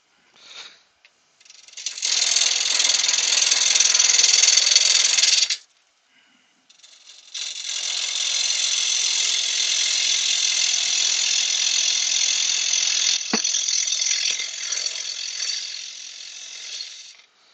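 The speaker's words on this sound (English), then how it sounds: "I think my belt's slipping on the lathe" Lathe with a slipping drive belt, giving two sustained ratcheting, grinding whirs separated by a short pause, loud and close, with one sharp knock near the end.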